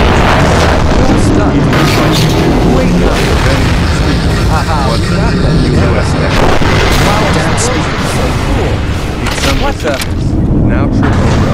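Explosions blast through a skibidi toilet animation, loud rumbling booms piled densely over each other throughout, with characters talking underneath.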